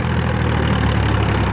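Eicher 242 tractor with its engine running at idle outdoors, a loud, steady low diesel chug and rumble close by, continuous for the whole stretch.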